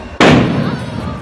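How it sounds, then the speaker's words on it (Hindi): A firecracker bursts with one sharp, loud bang during a wedding procession, followed by a ringing, crackling tail that fades over a second, heard up close with no talk. "पटाखा पटाखा देखो"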